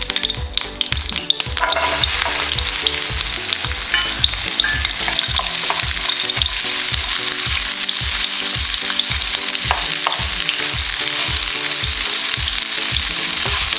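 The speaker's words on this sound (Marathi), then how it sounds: "ते आपण तर भेंडीची भाजी टाकून घेऊ" Okra frying in a pan of hot oil with mustard seeds, as a loud continuous sizzle over the rhythmic scrape and clack of a spoon stirring throughout, close-up and without talk.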